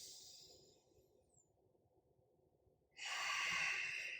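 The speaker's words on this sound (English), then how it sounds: "Take a big breath in. Exhale it away." A deep yoga breath drawn in and released, a faint airy inhale followed by a louder, broad exhale near the end, close and alone with no talking.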